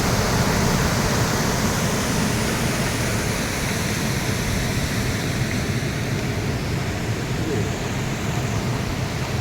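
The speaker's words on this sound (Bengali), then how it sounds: "এই জলটা কোথা দিয়ে আসছে" Flowing water makes a steady, loud broadband rush that holds constant throughout without pause.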